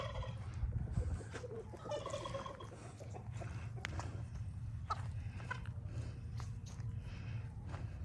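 Backyard flock of chickens being fed kernels, with steady clucking and gobble-like calls close by, a continuous busy chorus of fowl with bird chirps over low background noise.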